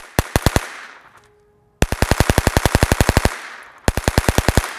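A VSKA AK-47 rifle fired left-handed during a high-round-count test cracks out sharp, close, rapid shots: a short string, a brief pause, a long sustained run, then another quick burst.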